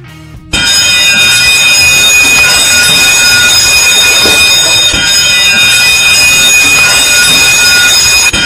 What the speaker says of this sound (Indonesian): Jika kawan maritim mendengar bunyi alarm atau klakson kapal yang terus-menerus